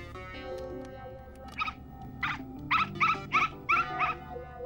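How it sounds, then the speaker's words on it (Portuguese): Noisy cartoon dog giving a run of about seven short, sharp yapping bursts in quick succession near the end, over a steady low background bed, with no talking. "Ótimo, perto de um cão barulhento."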